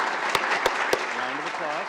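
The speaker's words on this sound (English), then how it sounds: "Round of applause." A city council meeting audience applauds a citizens commission appointee, continuous clapping with a few sharp close claps and a voice speaking over it.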